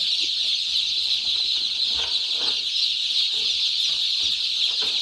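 A dense chorus of high-pitched cheeping from many newly hatched chicks in a brooder pen on a chicken farm fills the space steadily, with faint soft clucks and rustling underneath.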